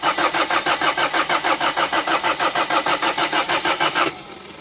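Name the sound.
car engine starting after mount swap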